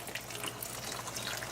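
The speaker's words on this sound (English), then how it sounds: "I'm going to add 1 cup more water, and please make sure that add hot water" Hot water pours steadily into a pot of red lentil dal, a continuous close splashing and gurgling stream throughout the short moment.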